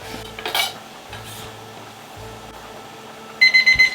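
Kitchen timer beeping for homemade parisienne potatoes while steak with cognac sauce is cooked, a short series of bright electronic beeps near the end after light clinks of pans and utensils.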